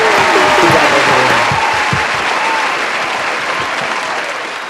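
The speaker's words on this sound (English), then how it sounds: "Let's give another round of applause to all of our lovely judges" Loud, sustained applause from a crowd cheering the judges at a student union's Masked Singer show, steady clapping that fades slightly toward the end with no talking.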